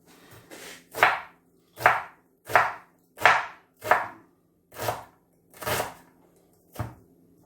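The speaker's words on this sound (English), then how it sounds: "We'll chop the onion up." An onion is chopped with a knife: about eight crisp, evenly spaced chops land close and loud, each a sharp thud with a short rasp, and no one speaks.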